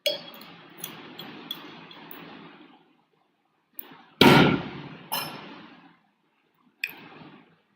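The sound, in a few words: drinking water, glass clinking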